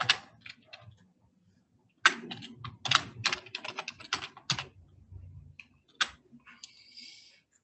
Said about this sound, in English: And you start typing in.